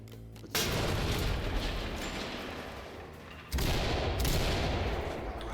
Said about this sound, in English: Let's get a C2 on there.